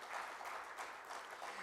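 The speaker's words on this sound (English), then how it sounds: "Give a big round of applause to C.S." Applause from a seated audience at a business breakfast meeting, a steady faint wash of many hands clapping with no clear breaks, heard from a distance.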